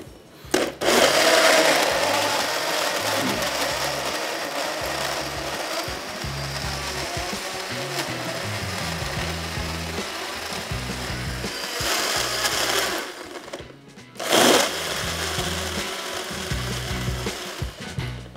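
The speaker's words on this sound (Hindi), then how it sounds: "लेकिन साथ में इसको आप ब्लेंड भी कर सकते हैं जिस तरह हम करने वाले हैं।" Blender running steadily on a mango colada with ice cream, a loud continuous whir with churning grind, pausing briefly twice near the end before restarting.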